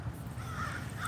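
A crow caws in the morning, a single brief call that sounds faint and somewhat distant, with no voices.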